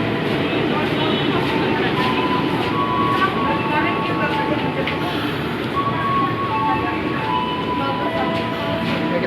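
KRL commuter train at Sudirman station in Jakarta during the busy evening rush hour, a steady loud rolling rumble with faint metallic squeals throughout, crowd voices mixed in beneath.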